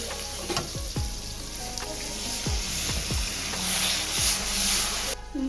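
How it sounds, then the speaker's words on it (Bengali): Water hitting hot, oil-separated spice masala in a pan for a boal fish curry, a loud, constant close-up sizzle and hiss with a few soft thuds and stirring knocks scattered through. "এবার দিয়ে দেবো পরিমাণ মতন জল"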